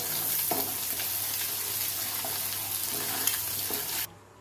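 Beaten egg seasoned with salt and black pepper fries in a hot pan, giving a steady soft sizzle with occasional stirring scrapes for about four seconds before cutting off abruptly.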